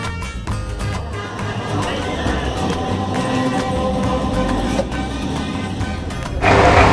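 Steady rumble and rattle of a moving passenger train carriage, with crowd murmur and clanking throughout, growing louder near the end.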